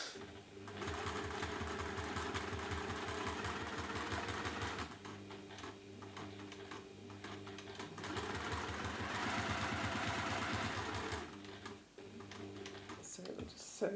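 A sewing machine stitching across the corners of a quilt runs in fast, even mechanical bursts with brief pauses between seams, close and fairly quiet, with some faint background noise.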